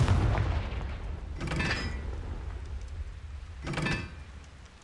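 A Confringo fire spell in Hogwarts Legacy goes off twice as sharp whooshing blasts roughly two seconds apart, each a brief burst over a low, steady rumble.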